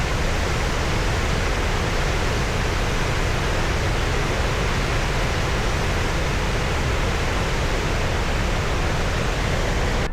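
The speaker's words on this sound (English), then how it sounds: "I'm just going to say it's a very big waterfall." A very big waterfall in Iceland roars in a dense, steady wash of broadband noise, loud and unbroken throughout with no voices.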